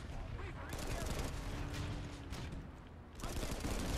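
Vehicle-mounted guns in the Planetside 2 video game fire in rapid bursts of continuous rattling, with sharp crackling volleys that drop briefly before resuming, while a player's voice talks over the gunfire.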